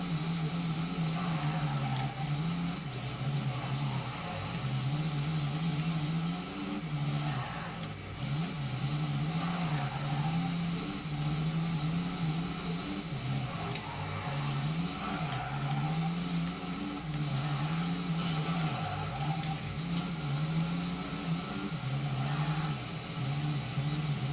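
Car driving in Tony Hawk's Underground: a steady mid-pitched engine drones throughout, rising and falling in gentle revving waves over a constant hiss of road and game noise, with no voices.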